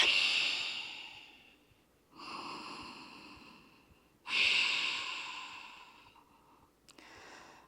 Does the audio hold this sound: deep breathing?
yes